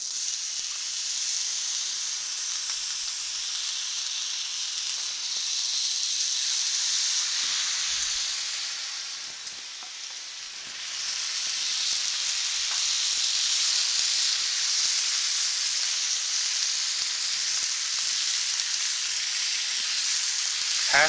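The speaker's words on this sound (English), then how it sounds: "I'm going to go ahead and get the bacon on" Thick-cut bacon sizzles on a Blackstone griddle, a steady, bright crackling hiss that fills the whole stretch, dipping briefly midway before returning at full strength, with no talk over it.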